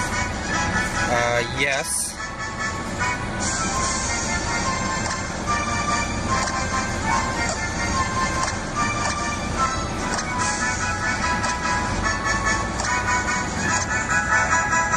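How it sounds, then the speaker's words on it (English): Steady engine and road rumble heard from inside a car driving on the road, a dense continuous drone throughout with a brief louder bump early on and a short spoken word. "So if you hear any engines, that'd be the car."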